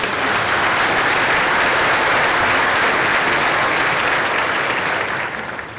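An audience at a school district keynote event applauds student performers, dense, loud, sustained clapping that fades slightly at the very end.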